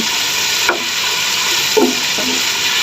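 Onions and spices frying in a hot pan for noodles give a loud, continuous sizzle and hiss, with a few brief scrapes of stirring, and no voices.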